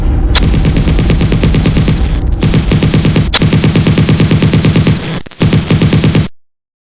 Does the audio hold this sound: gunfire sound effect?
yes